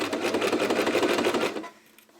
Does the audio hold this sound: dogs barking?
no